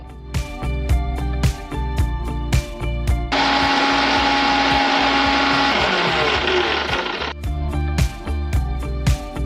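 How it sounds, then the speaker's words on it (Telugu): Electric mixer grinder whirring loudly as it grinds roasted ingredients for makhana dry fruit ladoos, a steady high-pitched motor roar running about four seconds between quieter kitchen clatter. "సో అవి రోస్ట్ అవుతూ ఉంటే ఇది మిక్సీ పట్టేసుకుంటాం."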